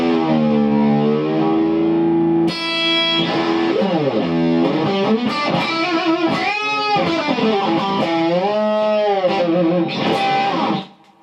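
Distorted electric guitar plays sustained notes whose pitch bends up and down repeatedly, loud and continuous throughout.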